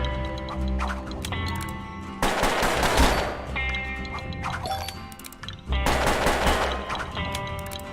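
In the Puppeteer video game, a twin-revolver gunslinger fires rapid bursts of gunshots, loud and repeated in two clusters, over game music and effects.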